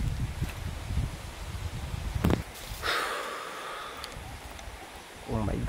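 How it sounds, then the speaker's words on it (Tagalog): Strong wind rushes through leaves near a rural hut, a steady airy roar with gusting rustles, a sharp crackle midway and a brief hiss rising above the noise. "Malakas yung hangin."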